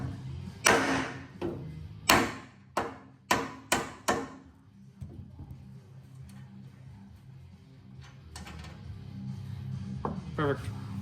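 A hammer whacks sway bar studs out of a lightweight snowmobile sled's bulkhead tabs: about seven sharp, ringing metallic strikes at uneven intervals, close and loud, then a quieter stretch of handling noise.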